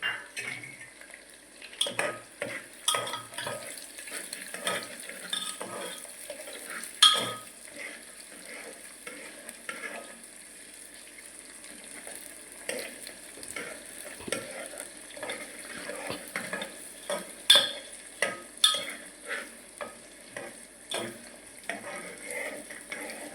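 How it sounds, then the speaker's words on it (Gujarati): Chopped ivy gourd (tindora) frying in a pan, with a spoon stirring and scraping against the metal in irregular clacks over a steady faint sizzle, no talking. "હવે આપણે ટીંડોળા નાખી દઈશું મિક્સ કરી લઈએ"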